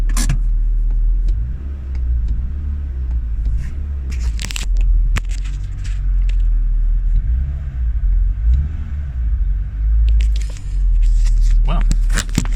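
A Renault Twingo is driven a short way back in a driveway, its engine rumbling low and close with small revs, punctuated by clunks and a door or handling noises, without anyone speaking.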